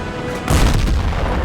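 A tank cannon shot in a tank combat video game, featuring an M7 medium tank: a single heavy boom erupts about a third of the way in and is followed by a rumbling decay under continuous game ambience.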